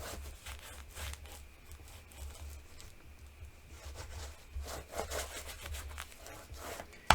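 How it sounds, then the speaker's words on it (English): Paper cover on a Thanksgiving mini album being burnished with a tool, a soft repeated rubbing and scraping in close strokes with brief pauses, fairly quiet and without speech. "So I'll go ahead and burnish."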